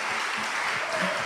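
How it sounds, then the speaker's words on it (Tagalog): A church congregation claps during a sermon. The applause is brief and sparse, a light patter of hands that is fairly close and steady over a short moment. "Kunti lang yung pumapalakpak"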